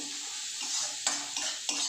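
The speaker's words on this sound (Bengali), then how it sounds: "একটু তেল মশলা একটু বেশি দিয়েই করছি একটু পেঁয়াজটা ভাজা ভাজা হয়ে যায়" Onions frying in oil with plenty of spices for a festive fish curry, a steady close sizzle broken by several sharp scrapes and clinks of a spatula stirring against the pan.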